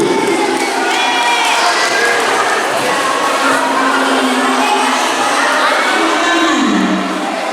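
A loud crowd of children and adults cheering, shouting and clapping at a parish community gathering after prizes are announced to children, a continuous noisy roar that stays strong throughout before easing slightly at the end.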